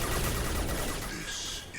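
Rapid automatic fire from the Locust submachine gun in Mass Effect 2, a dense rattling burst at moderate volume lasting under two seconds, with no talking.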